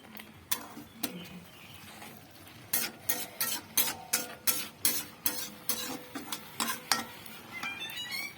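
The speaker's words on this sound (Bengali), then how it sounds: "তো আমি 2 কাপ দুধ এর মধ্যে দিয়ে এটিকে ভালোভাবে নাড়াচাড়া করে নেব।" Carrots are stirred with milk in a pan for carrot halwa, a spoon scraping and knocking against the pan in a quick run of regular strokes, close and fairly quiet, with no talking.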